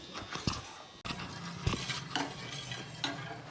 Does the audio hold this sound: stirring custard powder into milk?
yes